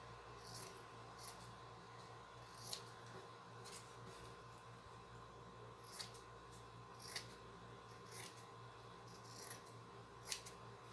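Scissors snip diagonally through the corners of fabric on a cardboard lampshade project, a series of soft, close, crisp cuts spaced a second or two apart over a quiet room hum.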